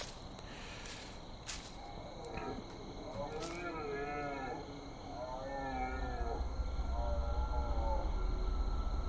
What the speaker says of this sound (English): That sounds very much like a deer of a kind, or elk